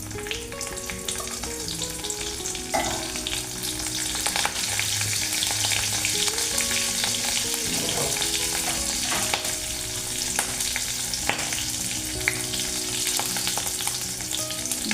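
Dried red chillies, cardamom, cloves and cinnamon crackle in hot oil, a dense and loud continuous sizzle with scattered pops and faint stirring all the way through.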